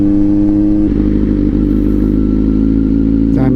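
Big bike motorcycles with engines rumbling loud and near as they pass outside a McDonald's, steady heavy idle and revving with clattering overtones, no talk.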